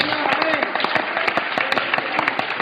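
Church congregation applauding God at a Spanish-language sermon, a continuous wash of many hands clapping with sharp individual claps popping through, fairly loud and close.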